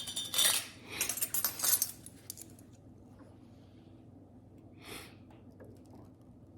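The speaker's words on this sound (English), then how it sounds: "I'm just going to stir the sugar and the salt until they're dissolved" Spoon stirring sugar and salt in a container until they dissolve, a quick burst of light clinking and scraping, then near quiet, and one last brief clatter, close and fairly soft.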